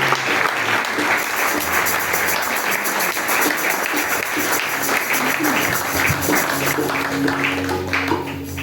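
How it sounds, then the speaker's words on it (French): A church congregation breaks into steady applause, dense, even clapping from many hands filling the room at a constant loud level throughout, with faint voices underneath. "Nous devons acclamer."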